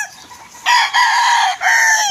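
Hens and roosters clucking and crowing close by, a softer murmur followed by two loud, sustained crows in quick succession.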